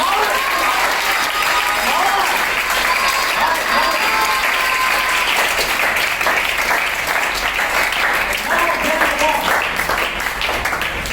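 An audience at a school education event applauds a score continuously, loud and dense clapping filling the whole stretch, with voices talking over it.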